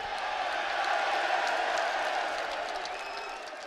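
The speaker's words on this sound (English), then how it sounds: "The crowd's that loud, I can't even hear you." A loud crowd at UFC 304 media day keeps up a steady wash of cheering and chatter, with faint whoops rising above the dense, continuous din before it eases slightly toward the end.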